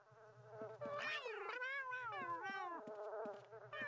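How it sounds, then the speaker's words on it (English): A cat in The Sims game gives a long, wavering, expressive meow that rises and falls over several seconds, clear and close, over a faint steady ticking. "Hey, look, a cat."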